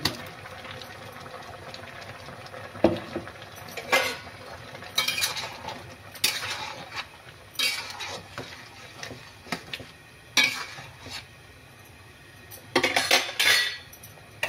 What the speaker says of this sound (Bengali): এই যে আমি চিকেনটা ভাজা ভাজা করছি।